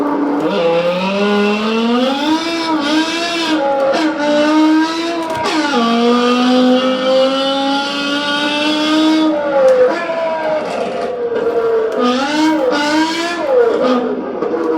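A BMW E60 M5 V10 drifts in the Assetto Corsa racing game. The engine wails loud and continuous, rising and falling through revs with shifts and tire scrub, and runs without a break.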